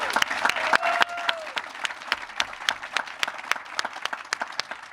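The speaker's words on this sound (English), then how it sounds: "have a round of applause for Greg" Audience applause at a library groundbreaking news conference, a steady burst of many hands clapping nearby that continues throughout, with sharp individual claps standing out over the crowd.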